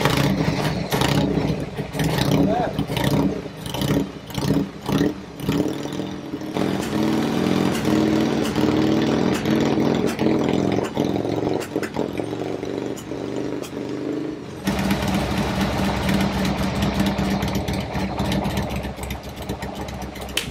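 A Harley-Davidson Dirtster conversion motorcycle engine runs loud and close for the whole stretch, idling with a rough, steady throb and rising into short revs, with a brief change in tone partway through.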